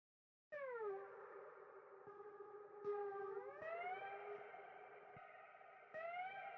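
A synth lead preset called Delayed Reaction from the ColdX Beats Nexus expansion plays sustained, gliding notes drenched in echo and effects, with pitch swoops and sharp new attacks every second or two, heard alone and fairly quiet.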